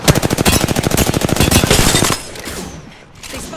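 Rapid automatic gunfire from Apex Legends rattles in a fast, even burst of close, loud shots for about two seconds, then cuts off into quieter ambient noise.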